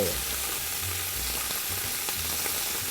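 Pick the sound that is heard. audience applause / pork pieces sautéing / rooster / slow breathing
pork pieces sautéing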